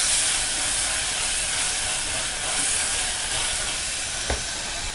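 Chopped tomatoes sauté in a hot pan for keerai sambar, giving a steady, close sizzling hiss that stays even throughout, with a faint scrape of stirring near the end.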